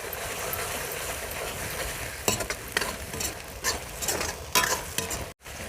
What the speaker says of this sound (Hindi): मसाले को अच्छे से भून लेते हैं।